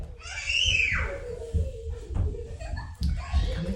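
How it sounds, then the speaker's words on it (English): Children screaming and shrieking at a middle distance, high excited cries rising and falling over shuffling, bumping movement. "kids running around screaming"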